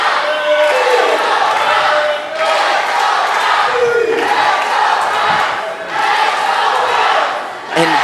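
Large crowd at a wrestling event roaring and chanting in loud surging waves that fill the arena, with brief dips between swells.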